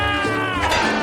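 A kitten meows once in a short, high, wavering cry, loud and close, over busy background sound.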